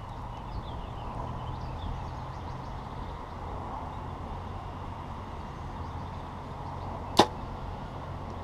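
Quiet outdoor ambience broken once by a sharp, distant smack of an arrow hitting a target.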